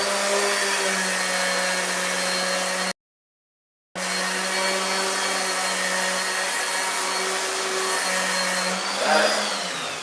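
A power sander runs steadily in a home garage during stair-building carpentry, a loud continuous whine that cuts out briefly for about a second, then resumes alone with a small bump near the end.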